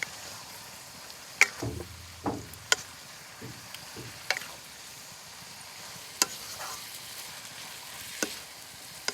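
Mung bean sprouts and pork stir-fry in a pan, a steady sizzle broken by repeated sharp scrapes and clacks of a utensil tossing the food, close up and without talk.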